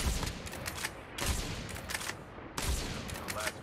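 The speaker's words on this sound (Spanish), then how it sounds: "me disparan por atrás" Rapid gunfire from the mobile shooter Call of Duty Mobile, with dense bursts of shots coming in three loud waves separated by brief lulls.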